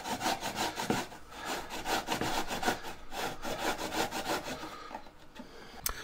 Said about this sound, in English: And when they're all done, grate them.